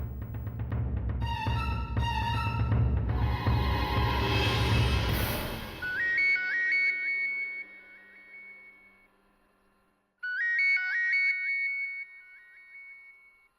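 An outgoing telephone call in a Marathi TV serial scene rings with two bursts of repeating electronic warbling tones, separated by a short silence and following a loud passage of background music.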